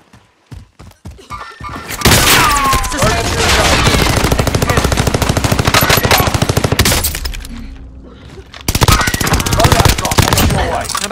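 Gunfire in the video game Caldera, a few sparse shots at first, then long loud bursts of rapid automatic fire hammering for several seconds, a short lull, then another loud burst.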